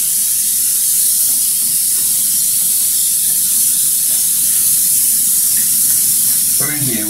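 500 grams of frozen mixed seafood hit a hot, oiled paella pan, setting off a loud, dense, steady sizzle and steam hiss that fills the whole stretch at close range.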